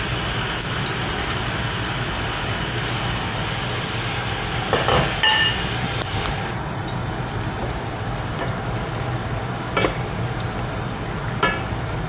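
Spaghetti sauce with meatballs bubbles and simmers steadily in a pot with a soft crackling hiss, and a few brief clinks and scrapes are heard along the way.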